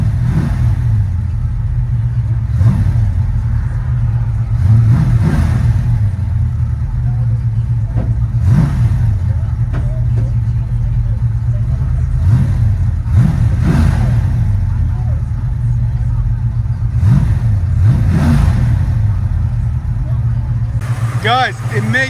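A 500 hp 1972 Ford Mustang Mach 1 with a 410 stroker V8, headers and Hooker exhaust idles with a deep, loud burble, cut by about a dozen sharp throttle blips spaced a few seconds apart.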